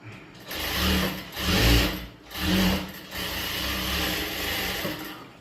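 A sewing machine stitches fabric pieces along an invisible zip, running in close, loud mechanical whirring bursts that speed up and slow down, then settle into a steadier run.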